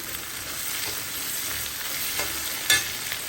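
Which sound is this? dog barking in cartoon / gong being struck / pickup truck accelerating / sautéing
sautéing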